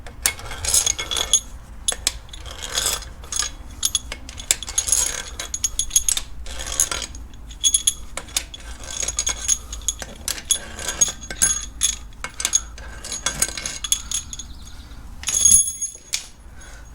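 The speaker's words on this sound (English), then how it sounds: "Let's take the head bolts out." Head bolts being removed from a Mercedes M272 engine produce a busy string of sharp ratchet clicks and metallic clinks, with bolts and tools tapping and rattling close by in irregular bursts throughout.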